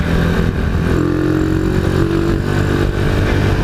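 Honda Tiger motorcycle engine running on the road, a loud, continuous mid-pitched engine drone with steady rumble throughout, alone without talk.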